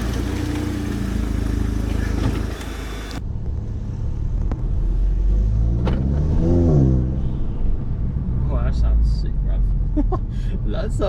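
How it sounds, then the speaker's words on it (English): A Golf GTI fitted with a Revo open air intake revs while driving, its engine rumbling loud and close with a rising throttle sweep midway, as people in the car talk over it. "we're going to go for a little drive, see what it sounds like, get some revs as well"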